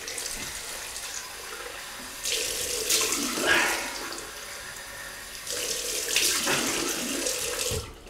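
A bathroom tap runs into a sink as hands splash water onto the face before shaving, a steady close rush of water with two louder bursts of splashing and dripping.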